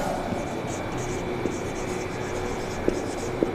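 Marker or chalk strokes on a classroom board during a physics lesson, heard as faint scratchy writing under a steady room hum, with a few soft taps.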